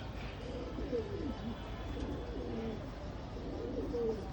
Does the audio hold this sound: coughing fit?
no